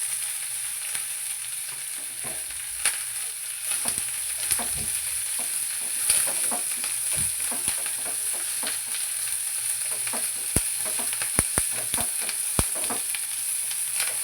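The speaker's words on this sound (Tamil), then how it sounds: "அப்புறம் வெங்காயம் போட்டு வதக்கிக்கோங்க." Onions sauté in hot oil with curry leaves in a pan for a curd curry, giving a steady close sizzle with occasional sharp clicks of a stirring spoon and no talking.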